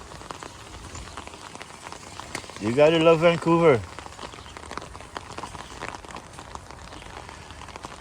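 Steady rain falls in Vancouver, a constant broadband patter throughout that continues under a brief stretch of speech in the middle.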